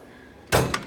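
A Snap-on EPIQ 84-inch tool box drawer slides shut with one loud, close thud, followed by a quick lighter rattle as it settles.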